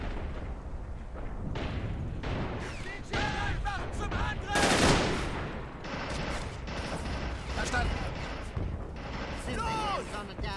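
Anti-tank gun fire in the Men of War: Assault Squad Stalingrad 1942 battle, a rapid run of sharp reports and blasts mixed with gunfire and explosions, loud and continuous under steady talk.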